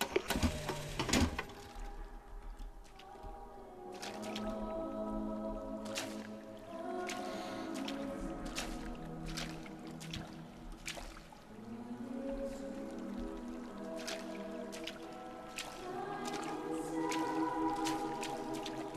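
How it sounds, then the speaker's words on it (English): Water dripping and sloshing in Bioshock Infinite, with sharp repeated drops at irregular intervals, fairly close, over a low ambient drone and tonal game music. "It's interesting there's water everywhere"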